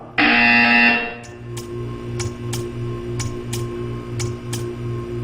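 A buzzer in the video game Portal 2 sounds loudly for about a second, then a steady low hum carries a series of sharp, evenly spaced ticking clicks.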